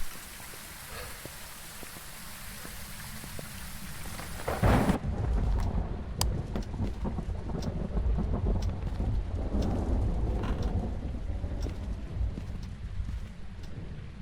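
Video game thunderstorm in Phasmophobia: steady heavy rain, then a loud thunderclap that gives way to a sustained downpour with rumbling thunder.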